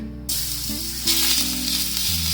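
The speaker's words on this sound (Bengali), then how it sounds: "এবার গ্যাসের ফ্লেমটাকে মিডিয়াম রেখে এর মধ্যে দিয়ে দিলাম গ্রেট করে রাখা রসুনটা" Grated garlic dropped into hot oil over a medium gas flame, a brief close, loud sizzle that swells after a second into a dense crackling hiss with a faint low hum underneath.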